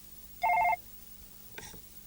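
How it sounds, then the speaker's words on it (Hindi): An office telephone rings in a horror drama scene, a short electronic trill and then a fainter second ring after a pause, heard alone in a quiet room. "आपके लिए फोन है।"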